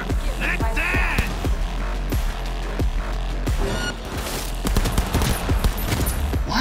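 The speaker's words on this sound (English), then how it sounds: "Why is this gun so powerful?" Rapid bursts of heavy gunfire from a powerful gun in the video game Cyberpunk 2077, loud sharp shots in quick volleys over a steady low hum, with no talking.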